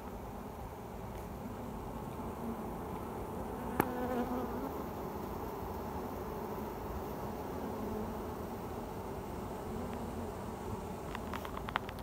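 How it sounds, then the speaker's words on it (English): Honey bees in a backyard hive droning in a dense, steady buzz that fills the whole stretch, close and continuous, with a brief sharp knock partway through and no talking. "Loads of bees in there."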